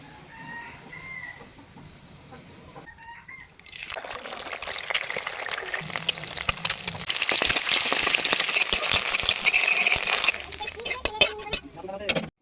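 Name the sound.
egg frying in white oil in a pan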